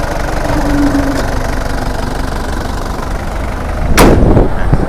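A 2004 Isuzu D-Max four-door pickup's engine runs steadily up close as a continuous low rumble, with a brief sharper burst of noise about four seconds in.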